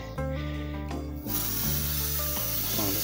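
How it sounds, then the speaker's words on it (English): A garden hose on a mist setting sprays water in a steady, close hiss that starts after a short pause, with a tonal background sound running underneath. "spray it all over everything"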